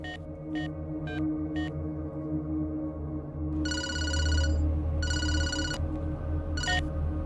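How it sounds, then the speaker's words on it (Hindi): Telephone ringing in a Hindi-dubbed action film scene, sounding in repeated short bursts over a steady background score and low rumble, fairly prominent but mixed under the music. "चल राजा को फोन कर"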